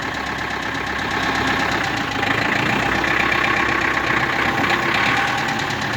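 A Mitsubishi MT23 tractor engine with a front loader idles up close with a steady, rumbling knock that stays even throughout. No voices are heard.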